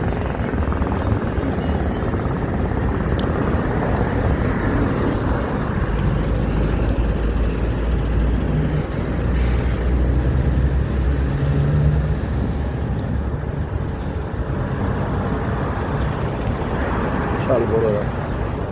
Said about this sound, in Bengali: আর দেখেন বড় বড় ট্রেলার যাচ্ছে